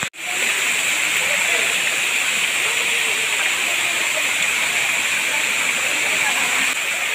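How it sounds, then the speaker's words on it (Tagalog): Batlag Falls waterfall, a steady loud rush of falling water with dense hissing spray, continuous and unbroken from just after the start. "Ayan ang falls. Batlag Falls."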